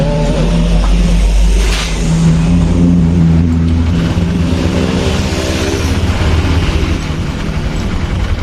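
A Honda Vario 150 scooter engine revs loudly up close, a strong low rumbling drone that holds steady for several seconds with a brief dip partway through.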